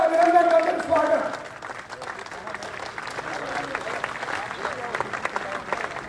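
A crowd claps for a speaker at an outdoor election rally in Rajasthan, loud at first and then thinning to a steadier, lighter patter of hands, with a voice over a loudspeaker at the start.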